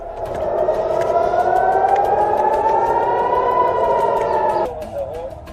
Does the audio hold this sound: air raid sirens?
yes